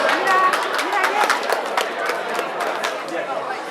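Wedding guests clap and chatter together for a gift, a scattered crowd applause mixed with voices, moderately close and steady throughout.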